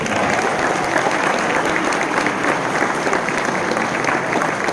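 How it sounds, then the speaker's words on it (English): A convention panel audience for Dragon Ball Super and My Hero Academia voice actors gives a loud, dense round of applause that holds steady for several seconds. "So, round of applause to the kid named Broly."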